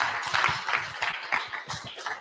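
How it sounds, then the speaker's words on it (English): An audience at a Detroit community event claps for a panel, with distinct hand claps in a quick, uneven rhythm that rise and fall over a couple of seconds, fairly close. "Let's give one more round of applause to everyone on this panel"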